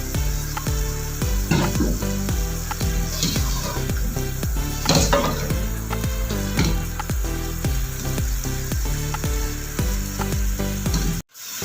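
Saag with green chillies fries hard in a pan over a full flame, a steady loud sizzle broken by repeated rhythmic scraping and stirring strokes throughout, ending abruptly.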